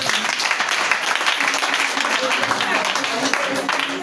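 Congregation at a Palm Sunday church service applauding and cheering together, a steady dense wash of clapping with voices mixed in throughout.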